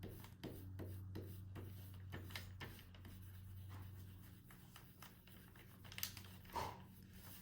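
Folded paper is rubbed firmly by hand in short, scratchy strokes. The strokes repeat at close range over a low steady hum and stay fairly faint.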